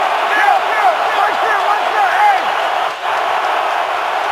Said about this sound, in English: this crowd is very lively at the start of this one